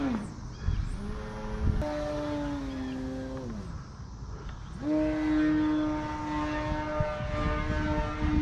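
An Extreme Flight 60-inch Edge 540 RC airplane flies past, its propeller whine rising and falling in pitch as it passes at varying distances, with a steady outdoor background underneath.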